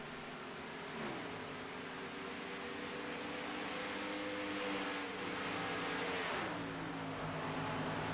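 Race cars in an iRacing superspeedway race sweep past at the finish, a steady loud engine drone whose pitch drops twice as cars flash by in close succession, with no talk over it.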